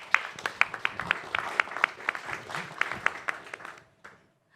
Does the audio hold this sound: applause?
yes